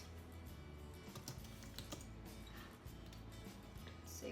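Faint, quick typing on a computer keyboard, a soft run of clicking keystrokes in a quiet room.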